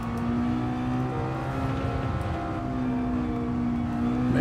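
A Mazda Miata race car engine drones and revs in Gran Turismo 7, a steady buzzing whine that holds near constant pitch with slight shifts, loud and continuous throughout.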